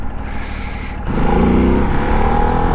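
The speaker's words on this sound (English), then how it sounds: "Ducati, this is an engine that lives up to your name" Engine of a 2023 Ducati Desert X motorcycle on the street, a loud steady drone that steps up in pitch about a second in as the revs climb, then holds a strong, near, continuous rumble.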